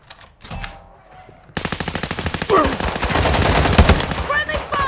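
Rapid machine-gun fire from the video game Warzone 2.0 rattles in a long continuous burst after a brief quieter start, loud and close, with a few faint game tones near the end.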